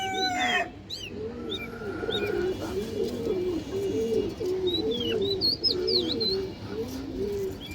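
Pigeons coo in a steady, overlapping rhythm of low throaty calls, with a few higher chirps from other birds scattered through, close and continuous without talk.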